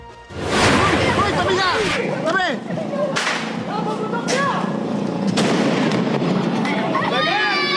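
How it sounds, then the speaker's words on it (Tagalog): Loud firecrackers burst one after another in a Manila street to welcome Christmas, sharp cracks and bangs echoing, with voices and crowd noise in the background. "Kaliwat kanang paputok ang sinindihan nila sa kalsada para salubungin ang Pasko."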